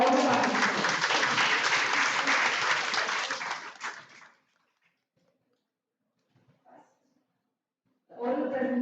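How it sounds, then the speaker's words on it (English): Strong applause from a national life sciences conference audience for the participants, filling the first four seconds before fading to near silence, with a voice speaking at the end. "A round of applause to all the participants."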